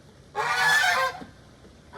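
Toulouse geese give a loud, close burst of honking lasting under a second, alone against quiet background with a faint call at the end.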